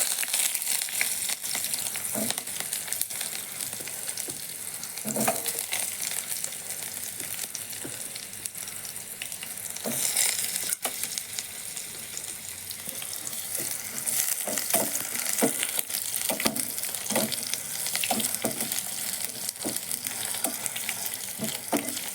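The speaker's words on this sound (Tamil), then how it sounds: "ஆயில் கடுகு ஜீரகம் கடலப்பருப்பு தாளிச்சிக்கலாம்" Mustard seeds, cumin, chana dal, curry leaves, garlic and onion sizzle steadily in hot oil. Crackles and pops come with occasional stirring scrapes, close and continuous, with no talking.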